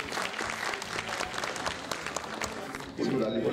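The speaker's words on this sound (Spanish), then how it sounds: "Vamos a darle un fuerte aplauso también." Strong applause from an audience at a peace ambassadors' show, steady broadband clapping through the whole stretch and swelling louder near the end, with voices mixed in underneath.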